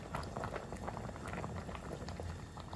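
A pot of red soup built on red cabbage puree simmers steadily, its dense bubbling and popping continuous and close, with no voices over it.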